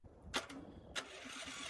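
A homemade engine said to run on water cranks over in two sharp, close bursts, then settles into a steady mechanical hum that carries on to the end.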